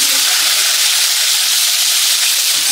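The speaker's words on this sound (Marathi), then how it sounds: "हा बारीक चिरलेला कांदा ह्याच्यामध्ये घालून" Finely chopped onion sizzling in hot oil in a pan, a loud, steady, bright hiss that fills the whole moment without pause.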